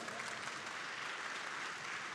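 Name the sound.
conference audience applause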